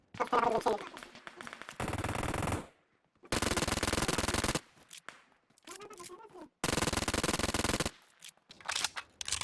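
Gunfire from a PUBG Mobile firefight: long bursts of automatic fire broken by short pauses, loud and close, with a voice talking between the bursts.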